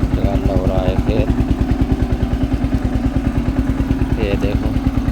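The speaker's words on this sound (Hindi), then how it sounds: "ट्रैक्टर पर बहुत जोर पड़ रहा है।" A tractor engine labours loudly while working a field, a rapid steady chugging pulse that stays close throughout, with someone talking over it at moments.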